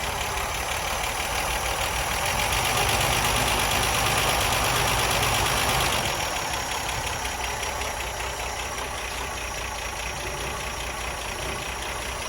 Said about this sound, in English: Let me go and start it up and show you her running.